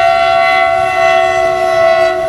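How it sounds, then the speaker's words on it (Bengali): A train shunting beside a bridge in Assam, sounding as a loud, steady droning tone with layered horn-like harmonics held throughout, close by and with no voices over it. "ট্রেন একটা শান্টিং হচ্ছে দেখা যাচ্ছে।"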